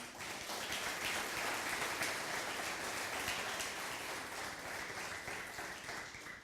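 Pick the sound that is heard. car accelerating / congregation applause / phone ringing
congregation applause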